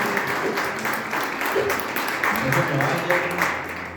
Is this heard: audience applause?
yes